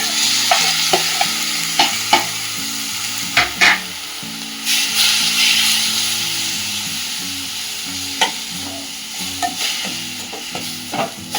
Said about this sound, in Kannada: ಸೋರೆಕಾಯಿನ ಸ್ವಲ್ಪ ರೋಸ್ಟ್ ಮಾಡ್ಕೊಳ್ಳಿ. ಇದು ಚೆನ್ನಾಗಿ ಹಸಿ ವಾಸನೆ ಹೋಗೋವರೆಗೂ ಫ್ರೈ ಮಾಡ್ಕೊಳ್ಳಿ.